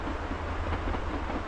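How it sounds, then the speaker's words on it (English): A train rumbles past at moderate distance on a line along the West Highland Way in Scotland, a low steady roll with faint rail clatter, heard alone. "Just every so often there's just a train goes by and it's just like really cool, like old ones."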